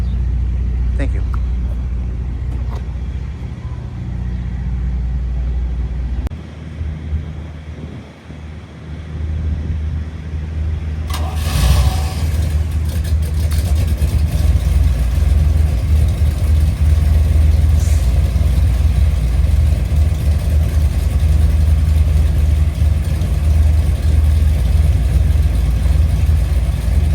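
A 1964 Chevrolet Corvette Coupe engine turns over and settles into a steady, loud idle that fills the rest of the clip after about eleven seconds, with a low rumble present throughout.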